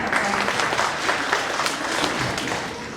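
An audience at a public gathering in Yeongdeungpo about a peace girl statue claps in steady, full applause throughout. The clapping is close and continuous, with no talk over it.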